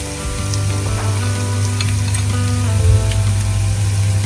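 Turmeric, coriander, chilli and pepper powders sizzle in hot oil with ginger-garlic paste in a pan, a close, continuous frying hiss with faint stirring scrapes and no voices.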